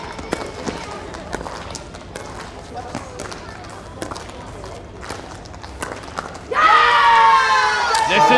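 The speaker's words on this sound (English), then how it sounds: "Listen to the roar." Crowd at an indoor pickleball semifinal in New Delhi, with children among them, erupts into a loud sustained roar and cheering, following scattered paddle pops, footsteps and commentary-like chatter.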